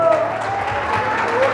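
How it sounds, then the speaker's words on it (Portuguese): A church congregation gives a short burst of applause during a sermon, a fairly soft, steady patter of many hands heard alongside a speaking voice. "Pode aplaudir a palavra."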